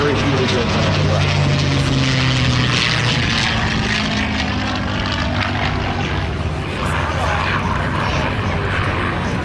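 A P-51C Mustang propeller fighter, the early Razorback version flown by the Tuskegee Airmen, passes overhead with a loud droning engine roar that sweeps in pitch as it flies by, while a narrator speaks over it.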